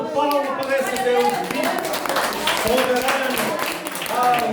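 A church congregation claps along during a lively worship service, a dense, steady clatter under singing and a leader's voice.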